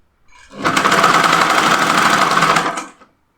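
A sewing machine stitching smocked fabric for an off-shoulder dress, running in one continuous loud whirring burst of about two and a half seconds that ramps up and winds down, heard up close with no talk.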